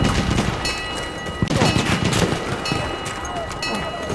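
Artillery barrage in the Battlefield 1 video game, a loud, dense run of booms and gunfire crackle that carries on steadily with sharp bursts throughout.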